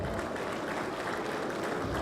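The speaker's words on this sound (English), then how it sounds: "a special round of applause for this" Audience at a state education trust fund launch applauding a speech, a dense, continuous wash of clapping from a crowd, steady and fairly distant throughout.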